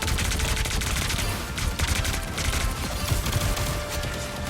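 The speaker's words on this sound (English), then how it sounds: "Heavy weapons." Heavy automatic gunfire from the Punisher's weapons in Marvel Rivals, a dense, continuous fusillade of rapid shots and crashes that runs loud for the whole stretch without a break.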